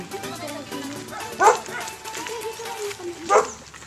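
A dog barks twice at a distance, short sharp yaps spaced about two seconds apart, heard under a steady background of outdoor noise and people talking.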